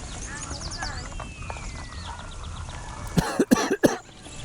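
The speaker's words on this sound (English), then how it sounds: "I didn't mean to cough in the mic" Someone coughs several times close to the microphone, a quick cluster of sharp, loud bursts near the end, after a stretch of quieter game sound and background noise.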